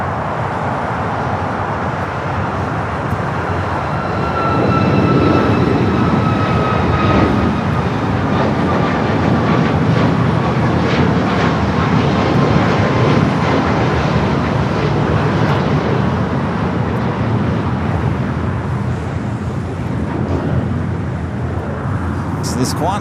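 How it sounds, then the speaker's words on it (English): Alaska Airlines Boeing 737 MAX 9 taking off from LAX on a Cabo-bound flight, a loud, sustained jet engine roar building and holding with a faint whine, heard from a distance with a talking voice over it. "Next takeoff, Alaska, flight 13 to 26, 737 at MAX 9, heading to Cabo"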